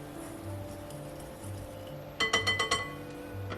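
Spoon clinking against a glass bowl while stirring salt, sugar, cayenne pepper and spices into a Mexican spice mix, a quick burst of about five bright metallic taps, close and alone over faint background hum.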